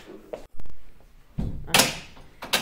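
A storage drawer under a sofa in a furniture store, sliding and thudding several times: soft rolling scrapes, then a sharper knock and clatter near the end, close by with no talk.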